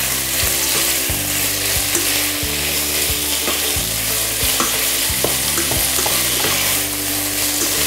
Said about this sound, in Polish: Wołowinę smażymy na dość wysokim ogniu,